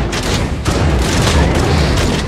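Gunfire rolls through the Hellbound video game as a loud, continuous barrage of booming shots and rumbling impacts with no break, dense and close throughout.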